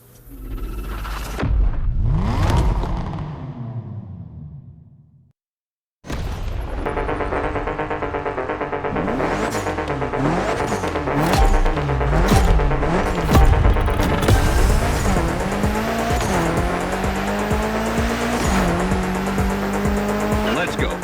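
A Mitsubishi Lancer Evo 9 in The Crew video game screams through a gymkhana run, its engine revving hard and rising and falling, with long tire squeals and skids. The car cuts out briefly and then keeps on loud and continuous.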